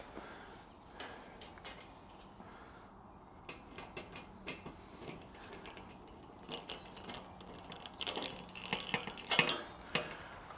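Small metal nuts and screws clink and tick faintly while a cheap raised garden bed is assembled, with scattered light metallic taps growing busier toward the end.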